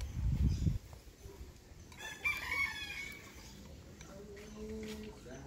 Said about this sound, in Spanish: Ahí está el señor gallo.